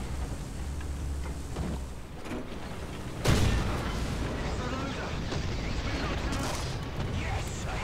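Tank cannon fire from a StuG III in War Thunder: one sharp, loud blast that trails into a long rumbling roar. Battle noise continues underneath, and a voice talks over the scene.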